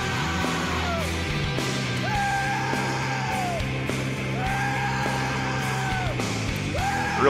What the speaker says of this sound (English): Big, powerful, pain screaming.